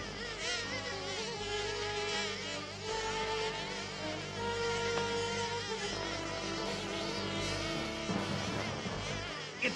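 A giant wasp buzzes steadily in a cartoon superhero scene, its insect drone running throughout over a busy bed of music and sound effects.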